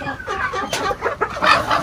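Heritage chickens and a rooster on a backyard poultry farm clucking and cackling close by in quick, uneven bursts, loud and continuous with no talk over them.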